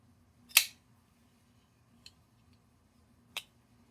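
A Meteor Knives Hurricane folding knife on washers is shaken shut, giving one sharp snapping click followed by two fainter clicks in a quiet room.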